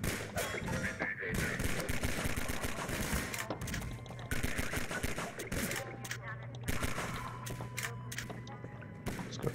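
Sustained rapid gunfire in the video game Half-Life 2, dense bursts of automatic fire running continuously throughout with occasional louder impacts, while a player talks intermittently underneath.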